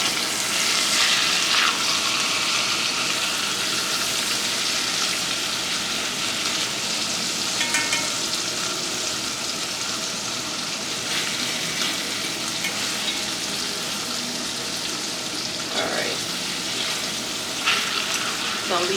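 A pork steak frying in an oiled pan after being flipped, a loud, dense, continuous sizzle and crackle close to the microphone with no talking.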